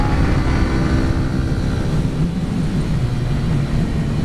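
A motorcycle, a Ninja 300 ridden on a track, downshifts and blips the throttle to accelerate. The engine drones close and steady, with a brief dip as the gear drops, then a rising tone as the revs climb.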